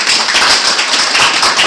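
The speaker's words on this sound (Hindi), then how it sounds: "एक बार हसनैन जी के लिए भी जोरदार ताली हो जाए" A crowd applauds at a DXN seminar event, a dense, steady wash of many hands clapping at once, loud and continuous with no voices over it.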